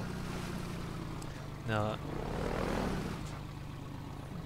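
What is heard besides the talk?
boat moving on river in video game Half-Life 2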